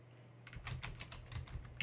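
Someone types a short command on a computer keyboard, a quick run of soft, close key taps clustered into a few bursts over a faint steady hum, with no talking.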